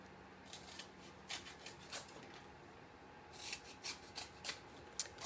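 Repeated crisp snips of big scissors cutting through a soft foam sheet, coming in irregular bursts with short pauses between, close by and fairly quiet.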